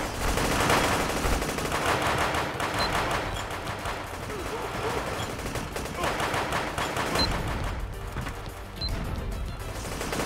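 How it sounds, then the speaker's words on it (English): Machine gun fire in the online shooter GunZ, sustained rapid shooting with dense overlapping shots across a busy room of players, loud and continuous with some talk mixed in. "machine gun's definitely the way to go with this"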